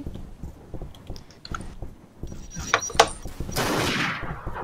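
Gunfire in Garry's Mod Trouble in Terrorist Town, a few sharp shots and a short burst rising to a dense loud volley near the end, with chatter and clatter in the background.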